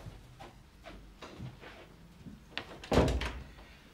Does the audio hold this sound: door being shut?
yes